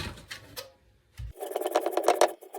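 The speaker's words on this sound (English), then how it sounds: "Done sewing." A short, rapid, close burst of sewing machine stitching, about a second long, following a few quieter handling noises and a moment of near silence.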